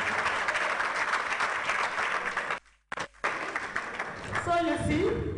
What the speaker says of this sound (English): It's a big round of applause for me.